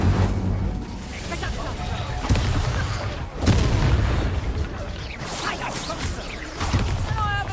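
Fiery Incendio spell bursts in Hogwarts Legacy, a series of booming whooshes and pops repeating every second or two, loud and close, with a voice calling out over the effects.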